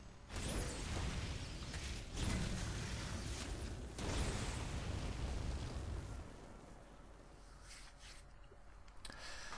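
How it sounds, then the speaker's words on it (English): Siege tank fire and baneling explosions in a StarCraft II match, a dense, continuous roar of booming blasts and crunching impacts that swells in repeated surges and stays loud throughout. "We got some siege going on. Siege tanks. Got to love it. Look at that. Burrowed baneling bombs."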